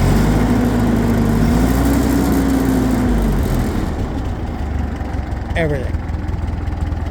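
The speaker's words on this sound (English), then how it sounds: "I got the carburetor set like it's supposed to be. It idles better. It runs up better." A bucket machine's engine idles steadily after a carburetor adjustment, a loud continuous low rumble that runs throughout, with a brief spoken word partway through.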